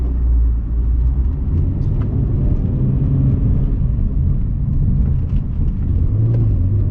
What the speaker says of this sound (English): This S54 with the individual throttle bodies just has a sound like no other car.